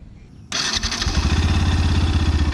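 A Yamaha FZ-V3 motorcycle engine cranks and fires up, settling into a loud, steady throbbing idle close by.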